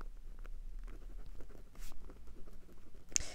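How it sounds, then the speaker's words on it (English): Someone writes by hand, a faint, quiet scratching of pen on paper in short strokes, with a brief louder rustle near the end and no talk. "Let me just write something."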